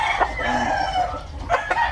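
An imported Penny Hatch Spangle rooster from James Pilkington, kept as breeding stock on a mini farm in Quipot, Tiaong, Quezon, gives a close, loud, strained crow with brief clucking accents.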